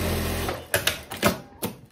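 Short sewing machine bursts stitching viscose binding along a straight seam, three or four quick separate runs over a steady low hum, close and fairly quiet, no talking.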